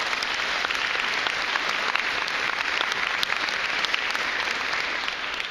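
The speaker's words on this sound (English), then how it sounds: "Let's have a nice round of applause for all of them." An audience in the Maurice Gusman Concert Hall in Coral Gables gives steady, dense applause that carries on evenly throughout, with no voices above it.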